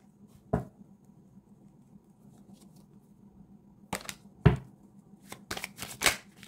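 Tarot cards are shuffled and drawn in a quiet room: one sharp flick, a long near-silent pause, then a cluster of brisk riffling snaps and card slaps, close and crisp.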